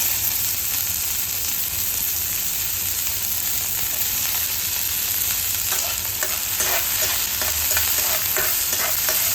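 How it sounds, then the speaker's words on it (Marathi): Onion, peas and corn sauté in a hot pan, giving a continuous bright sizzle with intermittent stirring scrapes, loud and close, with no voices over it. "आता हे सगळं छान परतलं आहे"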